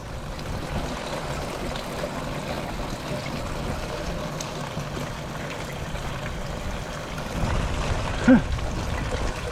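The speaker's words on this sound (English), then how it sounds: "The water comes down from the eavesdrops onto the screen." Steady trickling and splashing rainwater runs continuously from a gutter pipe onto a screen over a collection tank, with a brief louder splash near the end.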